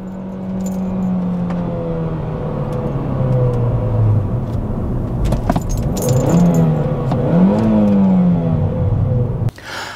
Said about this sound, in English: New pump installed. First gear. And let's go.